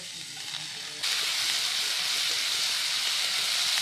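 Meat and garlic-ginger paste frying in hot oil, with a loud, steady sizzle and hiss that jumps up abruptly after a quieter first second and then holds evenly close by.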